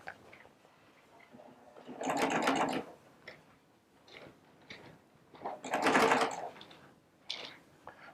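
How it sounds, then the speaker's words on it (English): A Baby Lock Triumph machine stitches fabric in two short, close bursts of rapid mechanical whirring, separated by quiet pauses. "Lower that presser foot, stitch that down."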